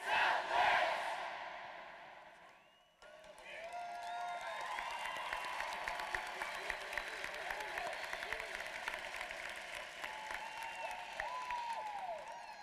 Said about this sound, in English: The senior class of 2016 would like to applaud you with a very loud, "We are! Southwest! We are! Southwest!"